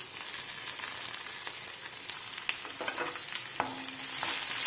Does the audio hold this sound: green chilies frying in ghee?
yes